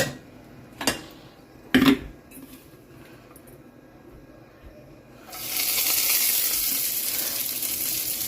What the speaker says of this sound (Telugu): ఇప్పుడు పుదీనా వేసి ఫ్రై చేద్దాం.